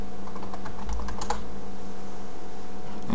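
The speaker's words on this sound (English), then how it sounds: "And I'm going to type his password in." A password typed on a computer keyboard: a brief run of close, quick key clicks over about a second, then quiet with a low background hum and no talk.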